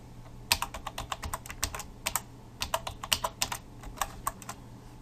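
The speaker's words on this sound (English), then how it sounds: "I'm going to type in mine." A password being typed on a computer keyboard: a steady run of quick, light key clicks with brief pauses, close to the microphone and fairly quiet, with no talking.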